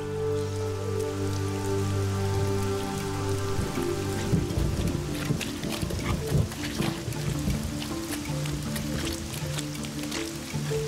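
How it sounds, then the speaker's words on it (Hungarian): Rain beginning to fall in the mountains, a dense patter of drops on surfaces that builds over several seconds into a steady close hiss, with a low droning tone underneath at first. "Az eső rázendít."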